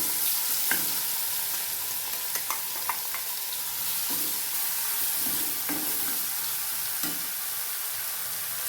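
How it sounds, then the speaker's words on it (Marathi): Ground raw spice paste frying in oil in a pan, a continuous close sizzle broken by intermittent stirring scrapes and light spoon taps. "हे मसाला मी जो वाटला होता तो तेलावर छान परतून घ्यायचा आहे आपल्याला"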